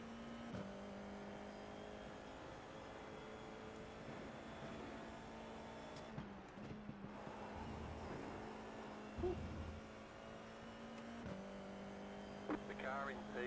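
An F4 race car engine in the iRacing game at Road Atlanta hums at steady high revs, with shifts and a brief drop around the middle as it corners.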